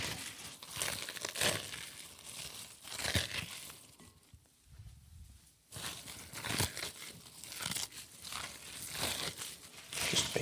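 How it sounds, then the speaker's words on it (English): Salad leaves torn apart by hand into a bowl, giving close, crisp crinkling and ripping bursts in an irregular rhythm with a short quieter pause midway. "And I'll just rip the salad."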